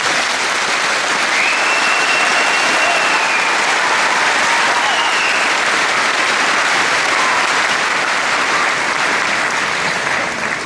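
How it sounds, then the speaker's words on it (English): A graduation audience applauds steadily for the whole stretch, a dense, loud wash of many hands clapping with no breaks. "Let's give her another round of applause"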